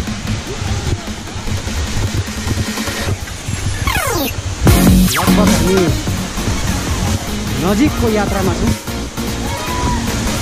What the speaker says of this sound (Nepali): यो चाहिँ हाम्रो ठुलो झरना